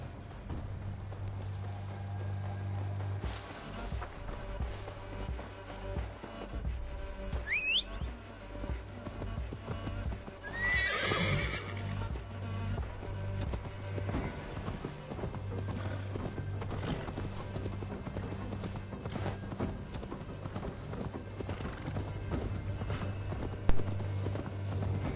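Horse hooves clip-clop in an Assassin's Creed Valhalla-style Viking game set around Grantbridge, steady over a constant low music and ambient bed, with a brief whinny-like call near the middle and faint talk-like sounds.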